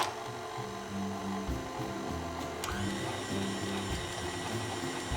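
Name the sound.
electric mixer mixing grain-free shortbread dough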